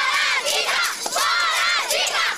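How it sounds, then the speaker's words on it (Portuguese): A crowd of students chants a battle cry in the street, loud rhythmic group shouting in repeated swelling phrases with brief dips between them. "E eles tinham até um grito de guerra."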